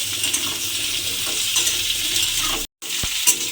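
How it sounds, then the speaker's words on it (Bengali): Diced potato and raw papaya fry in hot oil, giving a steady, close sizzle with light stirring and a brief break near the end. "এবার আলু আর পেঁপেটা দিয়ে একটু ভেজে নিতে হবে লাল করে।"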